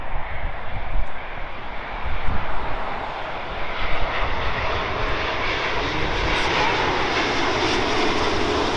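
A Delta Airbus A330 jet airliner passes overhead, heard as a broad, continuous roar of engine noise that holds steady throughout, with faint talk beneath it.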